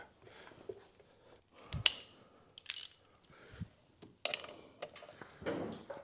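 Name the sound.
ratchet reinstalling motorcycle oil drain plug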